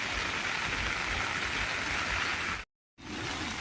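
Heavy rain pours steadily during an orange heavy rain alert in Bulacan, a dense hiss that cuts out briefly before resuming.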